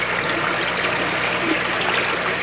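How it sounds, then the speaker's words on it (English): Water pours steadily into a radial flow settler tank and strikes a diffuser plate, making a continuous close splashing rush with no break. "So the water's coming in, hits against that diffuser plate, it spreads out"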